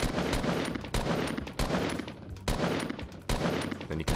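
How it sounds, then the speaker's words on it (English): Bursts of gunfire from the video game Fortnite come in quick, loud volleys, about five sharp shots spaced roughly a second apart, each followed by a short decaying tail. "I jump first with my paddle, and then I crouch and shoot."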